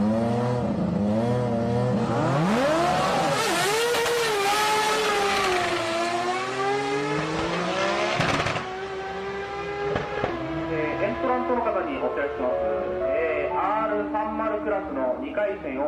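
An RE Master Cosmo with a 20B rotary engine revs and accelerates during video-game drag racing, its high whining pitch sweeping up and down through gear changes. A voice talks over the engine throughout.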